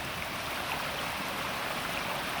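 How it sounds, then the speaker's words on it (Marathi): A small hillside stream of clear water flows downhill near a house, making a steady, continuous rushing wash that sounds close and moderately loud, with no voices. "हे आमचा झरा आहे"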